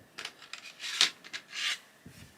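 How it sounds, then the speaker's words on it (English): A sky blue colouring pencil is sharpened in short scraping bursts, faint and close, with a rhythmic rasp of blade shaving wood. "Let's give it a sharpen."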